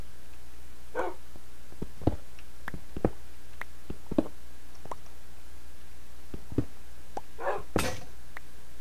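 Dogs in a Minecraft-style video game bark in short, sharp, separate yips about once a second against a steady low background hum. They sound fairly close, and no one talks over them.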